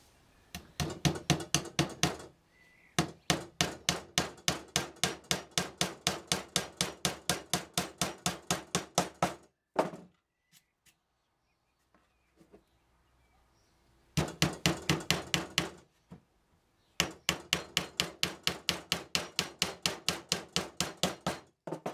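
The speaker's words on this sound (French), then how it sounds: "je procède à la même opération de clouage tout simplement" Thin nails, about 40 mm long and 1 mm thick, are hammered into thin pallet-wood planks for a garden planter, with rapid, evenly spaced sharp blows in two long runs separated by a quiet pause.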